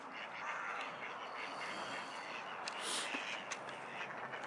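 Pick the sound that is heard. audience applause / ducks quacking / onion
ducks quacking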